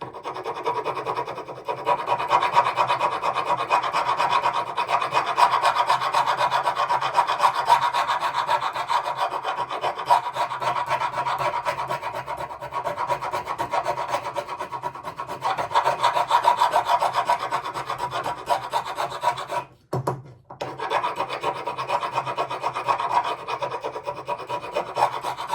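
Scraping tool rasps across the wooden body of a 1950s Armin Paulus archtop guitar in steady repeated strokes, close and continuous, with a brief pause near the end.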